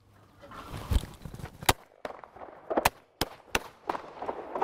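Shots ring out at a shooting range as several sharp, loud cracks spaced irregularly over a few seconds, with outdoor background noise and shuffling between them.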